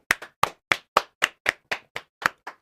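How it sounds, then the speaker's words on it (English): A single person claps hands ten times in a quick, even rhythm, each clap sharp and close, with short silences between and no talking. "And let me give him the clap."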